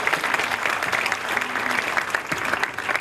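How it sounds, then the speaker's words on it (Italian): Audience applause honoring the performer who played Don Achille at a remembrance event, a steady dense clapping from a crowd that holds at full strength for the whole stretch without any voices. "quindi un applauso anche a lui"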